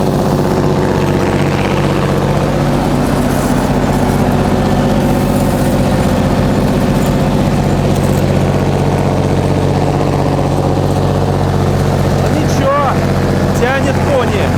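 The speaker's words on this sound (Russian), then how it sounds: "Движок орет. Тепловоз еле-еле едет." A narrow-gauge diesel locomotive hauling peat strains up a curved grade on dirty, sandy rails, its engine roaring loud and steady at close range with heavy low throb, wheels slipping, while someone talks over it.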